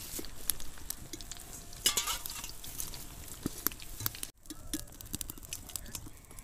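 Cauliflower pakoras frying in hot oil, crackling and sizzling as they are lifted out, with scattered clinks and stirring scrapes; a brief gap interrupts the frying partway through.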